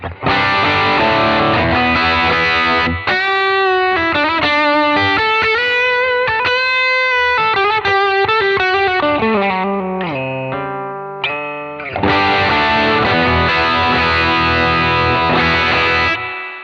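Electric guitar through a King of Tone overdrive pedal and a 1967 Fender Deluxe Reverb amp plays a lively riff of gritty chords and single notes, loud and sustained, shifting between busy strumming and melodic lines.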